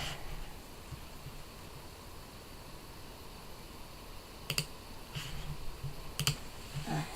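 A handful of sparse computer keyboard keystrokes clack in short clusters near the end, quiet against a steady background hiss.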